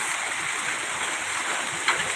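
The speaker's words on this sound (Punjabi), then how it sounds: "ਜਿਹੜਾ ਮੀਂਹ ਪੈ ਰਿਹਾ ਬਿਜਲੀ ਲਸ਼ਕ ਰਹੀ ਹੈ ਤੇ ਗੜੇ ਵੀ ਬਹੁਤ ਜ਼ਿਆਦਾ" Heavy rain pours down during a hailstorm on a village road flooded with water, a dense, continuous hiss and patter filling the surroundings at steady loudness, with no talking.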